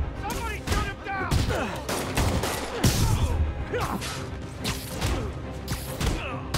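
Rapid gunfire in Marvel's Spider-Man on PS4, dense bursts of shots with crashes, thuds and whooshes in a chaotic fight, loud and close, with voices shouting between the impacts.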